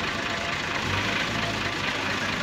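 Belt-driven electric motor of an automatic brick making machine, a steady close mechanical hum and drone that runs without pause and without any talking.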